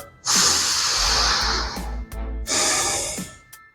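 Two long, deep breaths, each a strong airy hiss drawn close to the ear, with a brief pause between them.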